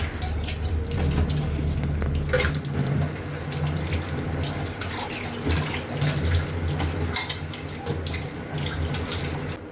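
Water runs from a tap while puja utensils, including a steel plate, are washed, a continuous splashing rush into a sink with shifting clatter and splatter, fairly close and steady throughout.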